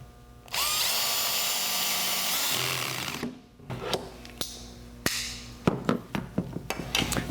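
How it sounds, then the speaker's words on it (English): A power drill with a square drive bit whirs loudly for a few seconds driving a screw into wood at a Kreg pocket-hole joint, then stops, followed by a string of sharp clicks and knocks. "Chuck the square drive bit into your drill and drive in the screws."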